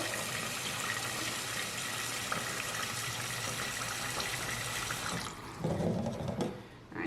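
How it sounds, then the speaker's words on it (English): Cold tap water gushes into a rice pot holding rinsed sushi rice, a steady broadband splashing hiss that shifts to a fuller, lower burble as the pot fills, then tapers off. "So I'm filling this up with cold water."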